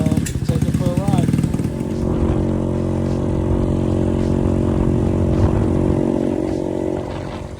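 A Boom Vader Grom clone motorcycle with a newly installed carburetor starts, idles with a steady buzzy putter, then runs on close and loud as a ride begins, with some clatter and a voice at the start.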